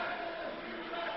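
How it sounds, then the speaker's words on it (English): A wrestling arena crowd chants USA during a match, a dense, steady wall of many voices that holds at an even level throughout. "As the crowd starts chanting USA."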